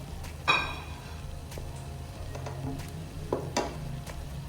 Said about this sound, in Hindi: अब मैं इसमें ऐड कर दूँगी कबाब।